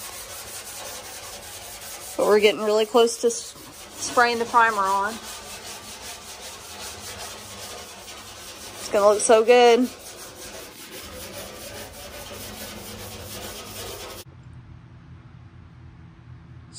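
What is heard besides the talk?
sanding wood in a garage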